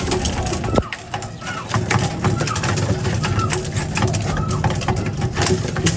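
Racing pigeons cooing in a loft, soft repeated coos under a busy, continuous background of rustling and movement with occasional louder knocks; a voice may be faintly present.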